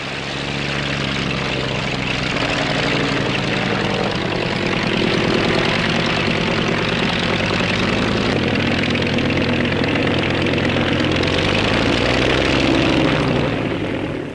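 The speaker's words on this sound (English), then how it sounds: "This is the Sierra Air Horse, a 24-seater helicopter powered by a Merlin engine." A Cierva Air Horse, a large 24-seat British helicopter driven by a Rolls-Royce Merlin piston engine, drones steadily and loudly throughout at the Farnborough air show, a continuous engine roar with no speech over it.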